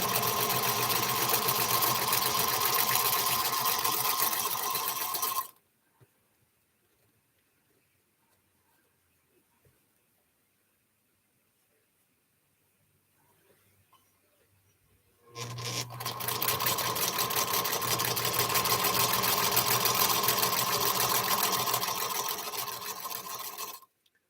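A sewing machine stitches a Mystery Star of Wonder quilt, running loud and steady for about five seconds, falling silent for ten seconds, then starting again in a second long, even burst of stitching.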